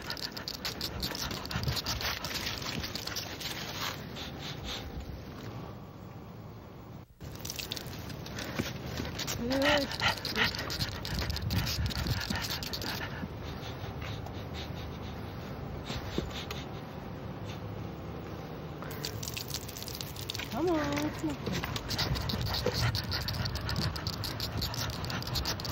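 A dog pants on an outdoor walk, its breathing steady beneath a person's encouraging talk and continuous ambient noise.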